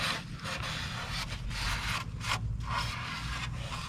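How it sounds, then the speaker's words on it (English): Steady rubbing and scraping of a cloth wiping the sprayed valve cover surface on a 2013-2017 Honda Accord 2.4L engine, continuous close strokes with brief pauses between passes. "Spray around here. Just go around and wipe off the surface"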